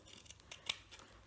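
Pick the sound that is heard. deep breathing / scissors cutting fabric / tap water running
scissors cutting fabric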